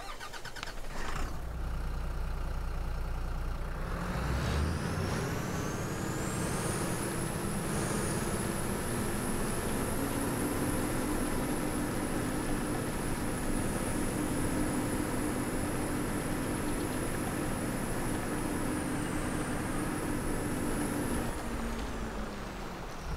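An MB Trac tractor in Farming Simulator 22 starts and runs for a long stretch. A steady, loud diesel drone is topped by a high, constant whine that rises at the start, holds, then winds down near the end. No voices are heard.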